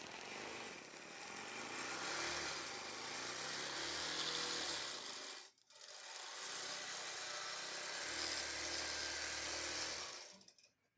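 A quilting machine stitches a client's quilt in a steady, loud, close mechanical whir with a fast needle buzz, pausing briefly about halfway through, then running on before stopping near the end. No voices.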